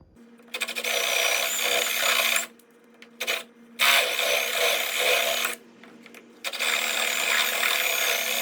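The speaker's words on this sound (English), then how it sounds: "you got to drill the heads of them out and knock them out with a punch" A power drill whines loudly in several long bursts, stopping and restarting, with a steady high-pitched motor tone and grinding as it drills out metal rivet heads.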